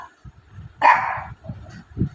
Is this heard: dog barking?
yes